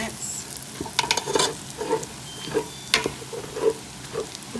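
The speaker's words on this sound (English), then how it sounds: "our onions have been cooking for 3 minutes" Onions fry in a pan for a seafood chowder with a busy sizzle, broken by stirring scrapes and clicks at an irregular rhythm, heard close up.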